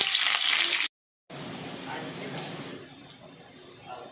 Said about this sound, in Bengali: তেল দেওয়ার পর এবার আলুগুলো নেড়ে নিচ্ছি।